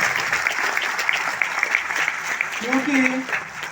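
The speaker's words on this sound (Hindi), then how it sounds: "एक बार ऊपर वाले के लिए एक बार जोरदार ताली चाहिए" Audience applause fills a lecture hall, a steady dense patter of clapping lasting several seconds, with a voice briefly heard near the end.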